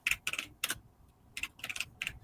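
Keys clatter on a computer keyboard while text is typed into a design layout, in several quick close bursts of clicks separated by short pauses, with no talking.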